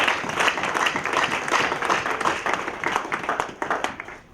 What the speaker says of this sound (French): Est-ce que quelqu'un peut donner une main d'acclamation?